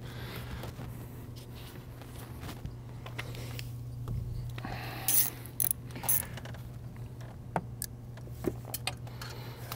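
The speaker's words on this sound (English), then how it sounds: "Now using the 6 millimeter Allen, come through the back, I'm gonna snug this down." Allen wrench snugging an exhaust downpipe bolt on a VW GTI, Golf R or Audi A3/S3, with soft metallic ratcheting clicks and several sharp taps over a steady low hum, no talk.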